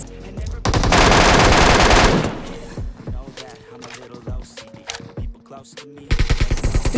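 Rapid automatic gunfire from the PUBG Mobile video game: a long sustained burst, then scattered shots and clicks, then another heavy volley at the end, all loud and close.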